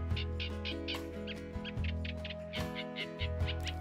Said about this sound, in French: Ce chant tonitruant est celui de la rousserolle effarvate.